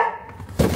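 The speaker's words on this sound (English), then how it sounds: "Growling dog in the background." A dog growls briefly in the background, a short rough burst of under a second, during a radiator swap on a BMW X5.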